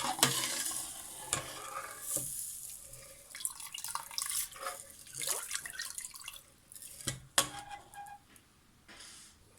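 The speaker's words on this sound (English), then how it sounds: "Time to mix everything well." A spoon scrapes and stirs moong dal in a pot on full heat, with repeated clinks against the side and a steady sizzle from the pan.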